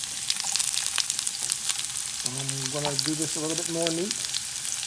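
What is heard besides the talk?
onions sizzling in olive oil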